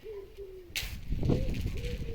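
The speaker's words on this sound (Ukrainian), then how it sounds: "Голуб співає." A pigeon coos softly and repeatedly, with a short rustle or flutter partway through and some background noise.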